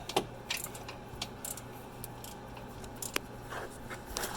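Metallic ratcheting clicks and scrapes come from a wrench turning the 12 mm bolt on the belt tensioner pulley of a Nissan 350Z, a series of short, irregular taps close by with no talking.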